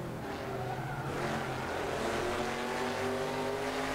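A TransAm-style V8 race car in Assetto Corsa roars under load, its deep engine note climbing and holding steady as it accelerates, loud and continuous with a faint tire squeal.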